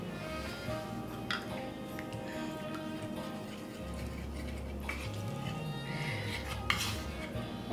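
Cauliflower pieces tossed with buffalo hot sauce and a little honey in a bowl, with soft scraping and clinking of a utensil against the dish, quiet and close, in irregular strokes.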